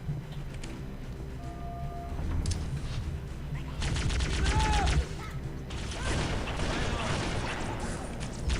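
Grenade explosions and rapid gunfire in the video game Halo CE, with dense bursts of shots and heavy booms. Chaotic battle noise builds strongly midway and continues loudly to the end.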